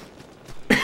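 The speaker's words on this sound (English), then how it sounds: "Coughing." A single short cough bursts out near the end, preceded by faint breathy sounds, heard close during a video game session.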